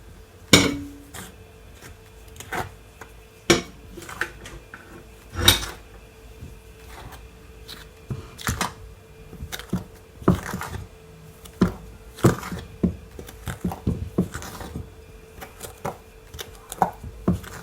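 Remaining seasoning being stirred into a copycat Popeyes chicken sandwich mix, giving a string of sharp, irregular knocks and scrapes of utensil against bowl, close and fairly loud, with no talking.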